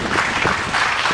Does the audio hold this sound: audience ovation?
yes